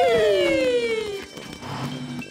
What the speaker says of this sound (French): Ding dong, ding dong! Voilà les pompiers qui arrivent.